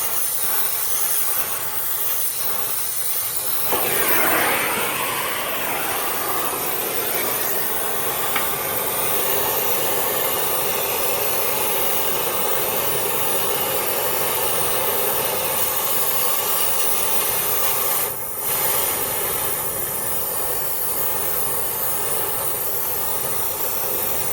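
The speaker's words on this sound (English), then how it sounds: "the mechanic is using a very high-powered torch" A very high-powered torch heats a stuck crankshaft gear during a timing belt job, making a loud, continuous roaring hiss that flares briefly near the start and dips for a moment later on.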